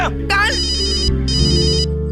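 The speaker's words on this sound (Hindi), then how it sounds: "मेरे बॉस का फोन है।" A mobile phone ringtone plays as a boss calls during a drama scene, with two repeating bursts of bright electronic ringing after a short vocal sound at the start.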